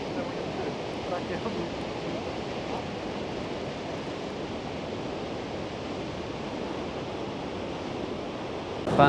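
Iceland waterfall roaring in a dense, steady wash of crashing water and spray, constant and close throughout, with a brief louder rush at the very end.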